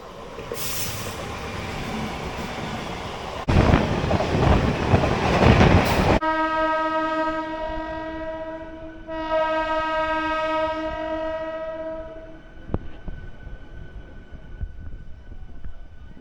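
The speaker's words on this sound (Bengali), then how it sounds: "ফাইনালি পাঁশকুড়া থেকে আমাদের ট্রেন ছেড়ে দিল দীঘার উদ্দেশ্যে" A local train pulls out of Panskura station bound for Digha, a loud rumble of carriages giving way to a long, sustained horn blast that cuts off, returns, then fades as the wheels keep running.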